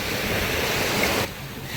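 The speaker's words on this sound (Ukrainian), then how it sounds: "Гарне тепле море, а воно де по волнам, а де по хвилям скаче" Warm sea surf washing onto an island beach, a steady loud wash of waves with wind across the microphone that drops in level near the end.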